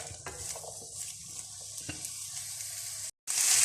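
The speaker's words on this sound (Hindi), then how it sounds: "शिमला मिर्च, इनको हल्का सा हम फ्राई करेंगे।" Bell peppers fry in a pan with a steady, close sizzle and a few soft stirring clinks, cutting out briefly before the hiss returns louder.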